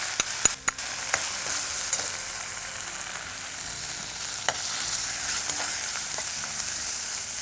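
Chili powder sautéing in a pan gives a soft, steady sizzle, with a few sharp clicks and scrapes of stirring scattered through it; no voices.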